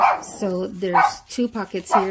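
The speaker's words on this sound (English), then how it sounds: "Excuse my dogs. They hear anything, they start barking at everything." Pet dogs bark in short, sharp, repeated bursts indoors, loud and close, while someone talks over them.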